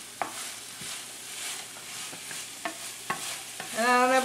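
Bacon tipped back into a hot pan with garlic and stirred, a steady sizzle under several sharp spatula scrapes and clacks, ending in a brighter, louder burst of frying.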